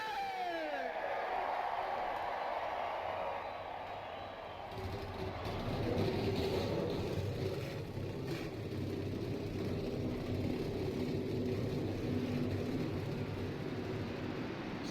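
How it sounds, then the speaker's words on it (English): Race car engines in a NASCAR-style racing video game at Rockingham fire up together into a sustained, loud, broadband roar that swells after a quieter start and holds steady to the end, with faint commentary mixed in. "Drivers, start your engine!"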